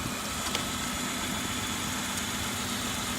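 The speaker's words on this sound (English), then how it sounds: "The codes indicate that we have a misfire on cylinder number 1." A 2003 Kia Sorento engine idles steadily with a cylinder 1 misfire, giving a continuous mid-range drone with faint irregular knocks throughout, close and without speech.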